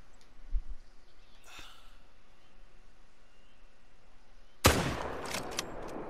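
A hunting rifle fires at a whitetail deer on a New England mountain in a hunting game. It is one sharp, loud report after a long quiet stretch, with a decaying echo trailing off.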